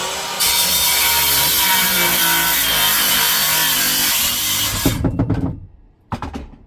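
A power saw cuts through a wooden board in one loud, continuous, close pass lasting several seconds, then winds down. A few knocks of the wood follow, with no talking.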